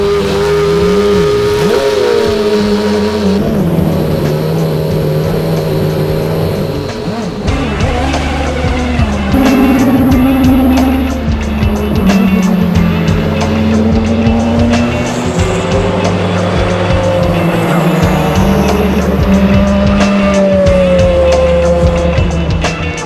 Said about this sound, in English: driving a 200 mile an hour Le Mans car around here is quite tricky